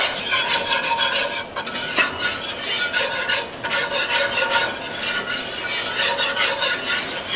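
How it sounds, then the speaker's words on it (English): Mac and cheese sauce whisked continuously in a pan, a loud, close, rhythmic scraping and swishing of the whisk in quick regular strokes over a faint simmer, with no pauses. "I like to sit here and do a continuous whisking to make sure that it doesn't burn."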